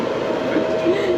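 Rack train climbing toward Christ the Redeemer in Rio de Janeiro, a steady rumbling rail hum heard from inside the carriage with faint voices over it.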